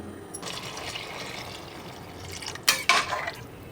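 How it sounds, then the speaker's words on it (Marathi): Hot water poured onto rice in a cooking pot gives a soft, steady splashing pour with a sharper sizzling burst near the end. "आता आपण गरम पाणी पण करून ठेवलेलं आहे. तांदळाच्या दुप्पट आपण पाणी घालायचं आहे."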